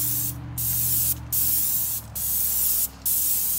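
A paint sprayer hisses loudly and close while a house soffit is sprayed, in four long bursts with short pauses between them.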